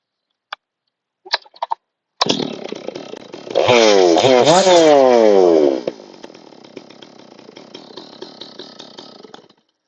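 A G660 chainsaw engine runs during a carburetor idle adjustment, starting after a few pull clicks, roaring briefly to high revs, then dropping back to a steady, loud idle.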